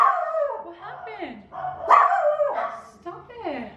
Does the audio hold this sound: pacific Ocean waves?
no